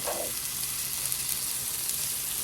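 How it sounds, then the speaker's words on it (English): Leftover roasted mushrooms heating in oil in a pan, a steady close hiss of frying with faint crackles throughout, no talk. "I'm just using them to heat them up on the pan, but also to infuse the oil"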